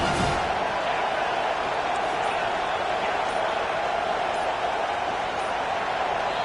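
A packed stadium crowd roars at a South Carolina football game, a dense, steady, loud rumble of voices that holds without letup.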